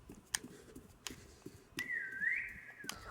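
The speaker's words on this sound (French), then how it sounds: "Bon, vous arrêtez de siffler?" Someone whistles a single sustained, slightly wavering note for about a second, faintly, amid scattered clicks and knocks in a quiet room during a Roblox horror game.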